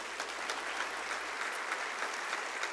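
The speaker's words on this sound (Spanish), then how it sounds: "¿Cuántos dan un aplauso al Señor?" A church congregation applauding steadily, dense clapping that stays even for the whole stretch with no voices over it.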